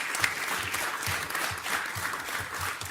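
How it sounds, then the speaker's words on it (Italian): An audience at an Italian conference on paediatric pain therapy and palliative care claps steadily. The applause is brief and sustained, without cheering. "Quindi io direi di fare un primo applauso a lui"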